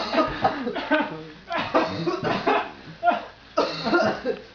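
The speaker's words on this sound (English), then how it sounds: "He's coughing." A man coughs several times in rough, throaty bursts, close and loud, mixed with laughter or chuckling sounds.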